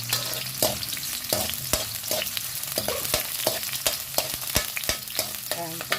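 Ginger sautéing in a hot pan for a sweet and sour tilapia dish, a steady loud sizzle broken by repeated scraping and stirring clicks of a utensil against the pan, with no voices.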